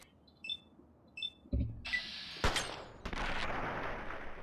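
Gunfire in the post-apocalyptic shooter Fallout 3: faint beeps at first, then a loud burst of shots around the midpoint, with a sharp crack followed by sustained noisy rumble, heard alone without talk.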